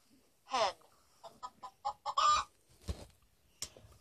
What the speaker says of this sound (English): The hen lays eggs for the farmer.